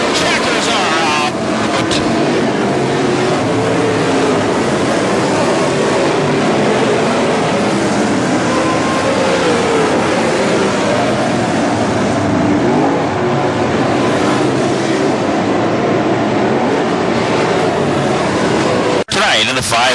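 WISSOTA modified race cars race at Ogilvie Raceway in a continuous, loud, roaring wash of engine noise that swells and fades as the cars pass, with voices mixed into the din.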